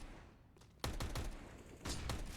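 Gunshots in Counter-Strike on the Overpass map during a competitive esports match, sharp bursts of rapid fire that begin suddenly after a quiet stretch and return near the end, close and loud with no talking.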